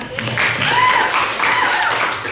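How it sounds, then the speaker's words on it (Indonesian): Classmates clap in a classroom, a brief burst of close clapping with children's voices and shouts mixed in. "Ya, oke, tepuk tangan temannya."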